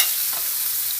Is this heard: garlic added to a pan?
yes